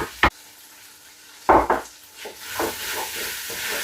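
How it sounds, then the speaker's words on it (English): A spoon stirs cabbage into a pot of minestrone soup. Two sharp scraping knocks are followed by a steady, wet, bubbling stir that continues close up under a soft simmering hiss. "Give it all a good stir."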